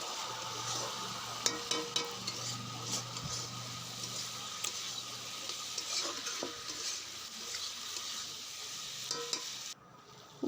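A fish curry with potatoes is stirred in a pan after water is added, giving a steady scraping, sloshing sound with a faint sizzle underneath and a few sharp clinks of the spoon against the pan.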